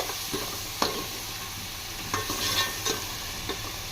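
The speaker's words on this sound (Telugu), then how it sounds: "ఇవి కూడా పచ్చి వాసన పోయే వరకు ఫ్రై చేసుకోవాలా." Tomatoes frying with ground coconut paste in a pan for Nellore-style drumstick pulusu, with a continuous sizzle broken by a few sharp spoon scrapes and taps.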